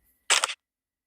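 A single crisp simulated shutter sound from a smartphone camera taking a photo, short and loud against silence.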